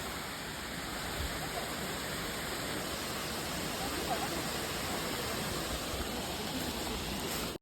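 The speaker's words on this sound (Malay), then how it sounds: "Okay, waterfall yang keempat kan." Constant roaring rush of a waterfall at Sungai Ranting, a broad steady wash of noise close by, with no break or change throughout.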